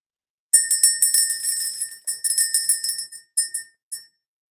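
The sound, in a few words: bell rung to clear the energy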